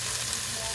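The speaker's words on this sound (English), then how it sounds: "Now that you can hear it sizzling" A brief burst of steady, crackling sizzle from lamb meat frying in a hot pan.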